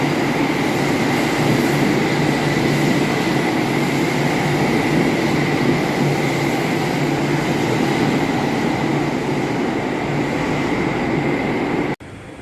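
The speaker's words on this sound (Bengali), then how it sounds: "মেট্রো যশোর রোড থেকে নোয়াপাড়া।" A Kolkata metro train rides from Jessore Road to Noapara, a steady loud rumble of wheels and motor running continuously from inside the carriage, ending abruptly near the close.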